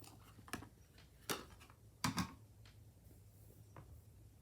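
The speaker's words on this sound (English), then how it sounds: "Going to cut off a length of ribbon." Scissors snip through a length of ribbon, a few faint, close, crisp clicks and cuts spaced irregularly in a quiet room, with a couple of slightly louder snips in the middle.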